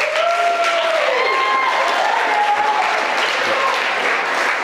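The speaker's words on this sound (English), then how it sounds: "Everybody clap your hands for Rachel." Wedding guests clap their hands for Rachel, a full, steady round of applause filling the room, with faint whistles or cheering tones gliding above the clapping and no clear talk.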